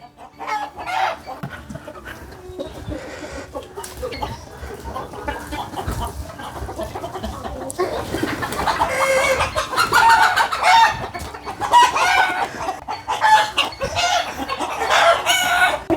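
Chickens clucking and a rooster crowing in a village yard, loud and close, with busy overlapping calls that swell in the second half and no talk.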